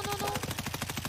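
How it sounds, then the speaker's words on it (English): Mounted gun firing in the Escape From Tarkov video game, a loud, rapid, steady burst of automatic fire across the whole moment with no pauses. "he's on the mounted gun, he's on the mounted gun"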